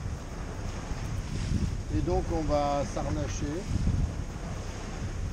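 Steady strong wind roars across the microphone over open water aboard a boat at night near Majorca, with someone talking briefly partway through.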